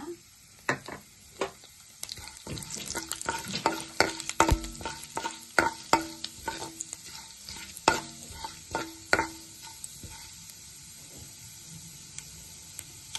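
Urad dal, chana dal, mustard seeds and cumin sputter and crackle in a spoon of hot oil in a kadai, a dense run of sharp pops and sizzle with stirring scrapes, close and alone, easing off near the end.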